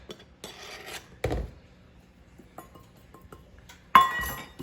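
A flat edge scrapes across a heaped measuring spoon to level the flour, producing brief, soft rasping strokes and a light clink of metal in an otherwise quiet kitchen.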